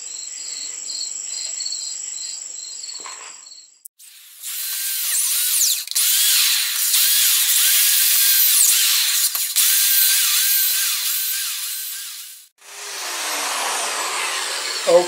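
A power drill drives screws into wood in several long, loud whirring bursts separated by short pauses, close by, with steady insect chirping heard in the quiet gaps.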